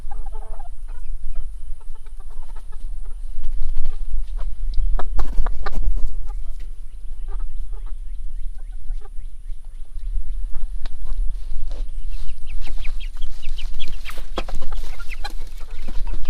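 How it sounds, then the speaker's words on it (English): Chickens, a rooster and chicks clucking and calling on a farm, intermittent close fowl vocalizations over steady low rumble and outdoor noise, with brief talk nearby. "Those are the chicks."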